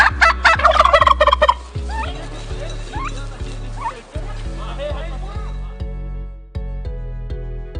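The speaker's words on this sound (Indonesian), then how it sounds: "Ini adalah kalkun." A turkey gobbles in loud, rapid, rattling bursts up close, with a strong burst at the start and shorter calls after, over a steady low musical backing.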